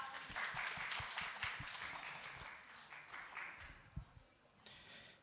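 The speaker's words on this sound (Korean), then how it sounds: "저희 다시 한번 박학훈 팀장님께 큰 박수 부탁드립니다" Audience applause for a team leader taking the stage at a conference session, a moderately faint patter of clapping from a seated crowd in a hall, thinning out toward the end.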